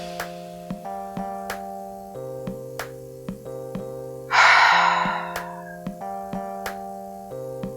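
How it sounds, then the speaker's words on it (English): A deep breath is drawn in and then released through the mouth in one loud, breathy exhale, heard over a steady tonal drone with regular soft taps. "At the top, hold for 3 counts, and then exhale out of the mouth."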